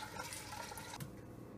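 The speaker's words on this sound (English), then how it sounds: "We're gonna put water for the broth." Tap water pours steadily into a cooking pot for an Ilocano clam soup broth, a continuous rushing splash at close range with no talking.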